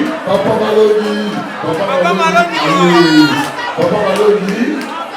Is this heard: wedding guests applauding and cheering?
yes